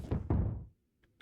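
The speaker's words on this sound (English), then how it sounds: "Who's knocking?" Two quick, heavy knocks on a door, close and dull, with a faint tap after a short silence, heard during a horror game stream of Dead Take.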